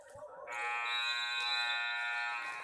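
A loud, harsh electronic buzzer sounds at the end of a quarter in a boys' high school basketball game, a sustained tone held for about two seconds, preceded by faint gym noise.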